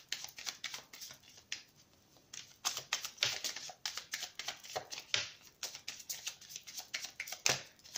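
Oracle cards are shuffled by hand in quick, uneven bursts of crisp slapping and riffling, close and fairly quiet, with short pauses between runs and no talking.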